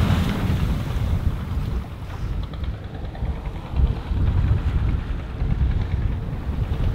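A sailboat runs downwind at four to six knots, with steady wind buffeting the microphone, water rushing and sloshing along the hull, and rumbling low gusts that swell and ease. No voices are heard.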